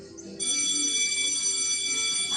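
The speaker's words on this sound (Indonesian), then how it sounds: "Nah, bel sudah berbunyi, tandanya akan istirahat." A school bell rings to mark break time, a continuous high electronic ringing tone that starts abruptly and holds steady, fairly loud, over faint background room noise.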